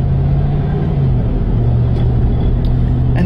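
Heavy machinery rumbles steadily at an old gas station while a large fuel tank is dug out. The low engine drone is loud and continuous, with faint metallic clinks on top.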